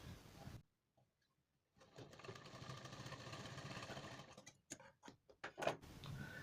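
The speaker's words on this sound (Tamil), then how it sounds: "இப்போ சென்டரில் ஒரு தையல் ஒன்று போடுறேன்." A sewing machine stitches a seam down the center of two blouse fabric pieces laid together, a quiet steady whirring run broken by pauses and a few short ticking bursts, faint and close.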